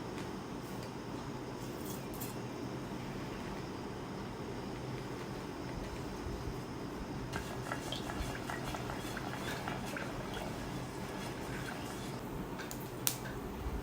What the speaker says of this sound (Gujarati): હવે એની અંદર આપણે રાઈ ઉમેરી લઈશું એક ચમચી રાઈ ઉમેરીશું